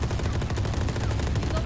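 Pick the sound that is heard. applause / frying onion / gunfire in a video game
gunfire in a video game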